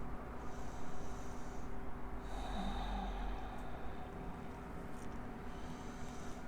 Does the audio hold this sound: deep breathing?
yes